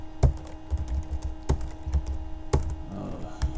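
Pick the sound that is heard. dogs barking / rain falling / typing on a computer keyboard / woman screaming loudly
typing on a computer keyboard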